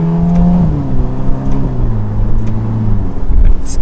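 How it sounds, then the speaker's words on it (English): A Ferrari engine drones close by, its pitch stepping down and then climbing as the twin-clutch gearbox shifts down and up, with a quick burst near the end. "That twin-clutch box, listen to the way it goes down and up the box"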